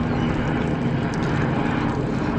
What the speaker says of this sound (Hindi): हमारे घर के ठीक सामने देखो भाई, अभी एक हेलीकॉप्टर जा रहा है ठीक ऊपर मदमेश्वर धाम की साइड।